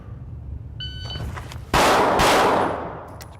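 Pistol shots during a live fire drill with a Vortex Defender CCW red dot sight: two loud, close, sharp reports roughly half a second apart. Each ends in a ringing decay over a low background rumble, and a few faint beeps come just before them.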